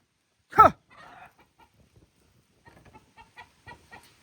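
A village chicken lets out one sharp squawk, followed by a few quiet, scattered clucks in an otherwise still yard.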